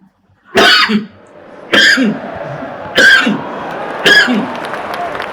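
Four harsh coughs spaced about a second apart, close and loud, each followed by a short rasp, with a low murmur in between.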